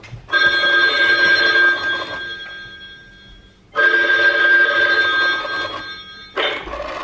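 An old-style telephone bell rings loudly in two long bursts with a pause between them, then starts a third ring as the sound ends. No one speaks over it.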